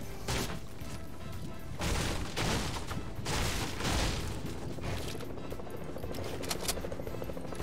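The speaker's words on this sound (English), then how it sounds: "Somebody was shooting at me." Bursts of Fortnite gunfire crackle through a busy game mix, several loud volleys spaced across the stretch with mechanical clatter between them, no voices over them.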